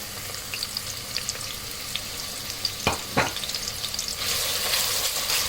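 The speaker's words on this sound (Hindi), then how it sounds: "यहाँ पे कुकिंग ऑयल गर्म हो चुका है, इसमें मैं ये सारी प्याज शामिल कर दूँगी" Onions hitting hot cooking oil in a pan sizzle steadily, with a couple of sharp spatters midway and a louder surge of frying near the end, no voices.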